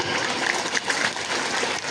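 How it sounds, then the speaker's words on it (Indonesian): A dense wash of crowd clapping at an Islamic religious gathering at a boarding school fills the whole stretch, steady and loud, with no pauses. "Tepuk tangan."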